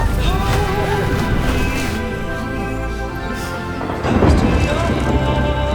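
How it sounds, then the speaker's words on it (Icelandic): Rain falls steadily with a broad hiss and patter, heard under music with a low rumble of thunder, the wash swelling a little louder near the end. "Notalega rigningu."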